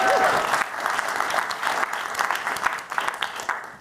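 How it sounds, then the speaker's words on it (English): A Demo Day audience at a startup accelerator event bursts into sustained applause, a dense wash of clapping hands that holds steady throughout with a brief voice at the very start. "a round of applause for them, please"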